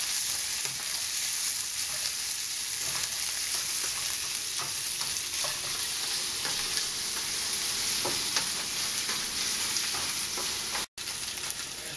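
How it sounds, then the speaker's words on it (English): Ginger and garlic fry with pork in a hot pan for Korean spicy pork, giving a loud, steady close sizzle with occasional stirring clicks and no talking. "now we're going to add our ginger and garlic and brown them up"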